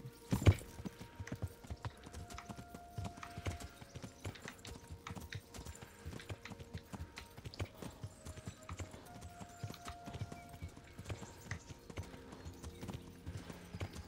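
Steady clip-clop of horse hooves at a walking pace in the video game Kingdom Come: Deliverance, an Arab stallion, fairly close and continuous throughout with faint background game ambience.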